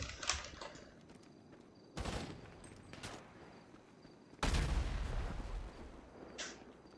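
Explosions in GTA 5 on a Ukrainian roleplay server: two loud broadband blasts about two and a half seconds apart, each with a rumbling tail, between smaller cracking bursts near the start and end.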